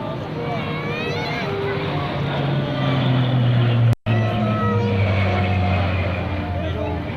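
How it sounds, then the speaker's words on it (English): Rhode Island Air National Guard C-130J-30 Hercules turboprop flying toward the crowd at a 2004 air base open house, a loud sustained propeller drone with shifting pitch, partly under talk. "Great picture of the airplane coming at you right now."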